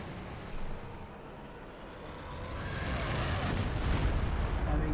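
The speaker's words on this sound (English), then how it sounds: "Calling a very little artillery on the position." Artillery explosions in the Company of Heroes 2 video game: a rumbling barrage of blasts building in loudness, dense and continuous, heard alone.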